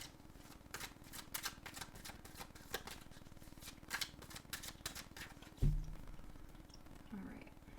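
Quiet, rapid riffling of tarot cards in quick bursts, a soft thump partway through, then a little more shuffling.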